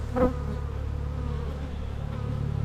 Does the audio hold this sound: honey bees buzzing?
yes